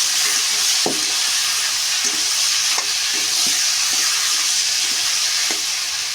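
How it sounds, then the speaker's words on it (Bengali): A pan of pumpkin curry with a rohu fish head hisses with a loud, constant sizzle, while a spatula scrapes through it at irregular intervals. "এখন আবার নেড়ে নেব।"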